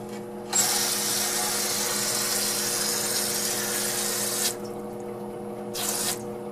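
Water runs and hisses steadily into an evaporative swamp cooler being checked for leaks, close and even, stopping briefly near the end before another short burst.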